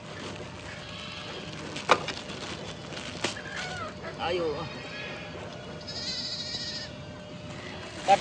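Sheep and goats bleat in a rural evening camp, a few short calls at middling distance over outdoor ambience, with people talking nearby and occasional knocks.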